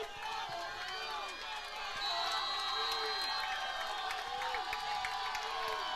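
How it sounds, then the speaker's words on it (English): A Lyons home crowd at a Friday night varsity high school football game against Republic County roars and cheers steadily across a wide, busy stadium wash, with scattered shouts and whoops rising above the sustained noise. "You can hear the Lions crowd coming alive here"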